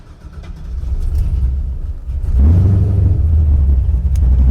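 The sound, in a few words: LS-swapped Chevy Nova engine starting and running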